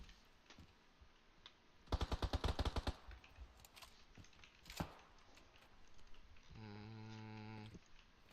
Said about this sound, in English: I hear gunshots on blue.